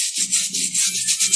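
Brush or cloth rubbing paint into a painting's surface, quick repeated scrubbing strokes in an uneven rhythm, close and fairly quiet, with a soft hiss on each pass.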